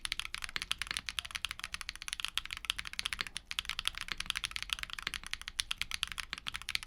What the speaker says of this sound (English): After using these Grayish switches for a while, I find a pretty mild tactility and the sound signature is pretty subdued.